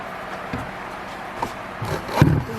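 Pine wood painted teal is rubbed down by hand to work paint out of deep grain, a soft scratchy scrubbing with a few louder strokes near the end, close and fairly quiet.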